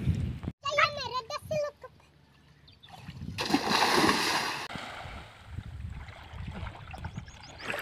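Splashing in river water as people wade in to test homemade bottle life jackets, a burst of broad spray noise mid-clip with a voice before it and scattered wet movement after.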